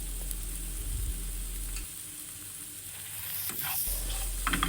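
Vegetables seasoned with salt and pepper are sautéed in a pan, giving a steady sizzle with scrapes and clatter of stirring, a brief quieter stretch, then louder stirring clinks near the end; no voices.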